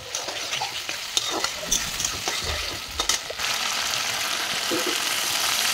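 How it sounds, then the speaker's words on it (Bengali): Ginger-garlic paste stir-fried in a pan for kajkola curry, with a steady close sizzle and repeated scraping strokes of a spoon against the metal, the frying growing denser and more continuous toward the end. "তারপরে একটু আদা রসুন পিসা দিয়ে দিলাম, তারপর ভালো করে নেড়ে নিলাম।"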